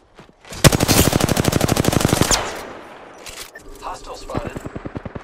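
Automatic weapon fire in Apex Legends: one loud, rapid burst of evenly spaced shots lasting almost two seconds, followed by fainter game noise and a brief voice.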